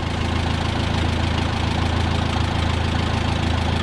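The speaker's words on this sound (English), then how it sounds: "God, I love this little tractor." Small vintage chore tractor engine idling after a cylinder head job, a steady close rhythmic chugging with an even knock-like pulse throughout and no voices.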